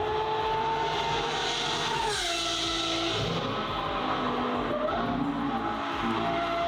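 A Lamborghini Aventador Ultimae with a valved Valvetronic exhaust screams at high revs in a dense, continuous wail with pitch sweeps up and down, loud and harsh, the sharp shrieking tone dominating throughout.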